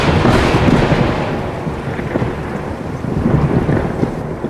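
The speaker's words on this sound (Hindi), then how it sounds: "बारिश लगातार हो रही थी और बिजली भी कड़क रही थी" Heavy rain pours down steadily while thunder rumbles loud and close, a dense, continuous roar with deeper swells rising through it.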